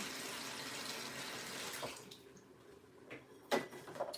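Vegetables, including a pepper, rinsed under a running kitchen tap: a steady water rush that cuts off midway, followed by a few wet splashes, drips and handling knocks close by.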